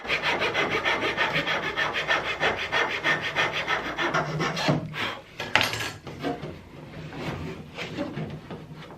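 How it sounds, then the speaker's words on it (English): Wooden batten being filed and planed by hand while fitting upper rubbing strakes on a boat, a steady rhythmic rasping of repeated strokes, then a few louder scrapes and knocks, close and alone. "The stem end of the batten was cut, filed and planed so it would align correctly with the stem."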